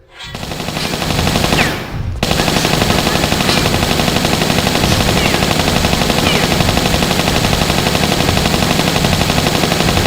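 Sustained Uzi gunfire from the Tomb Raider III video game, a loud, dense automatic rattle that runs almost without pause for about ten seconds after a brief opening burst and a short gap.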